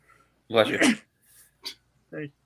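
A single sharp sneeze close by, followed by a short breath and a brief voice.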